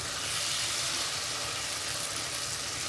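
Boiled eggplant bharta cooks in a pan with a steady, soft sizzle and hiss that stays even and close throughout, with no voices.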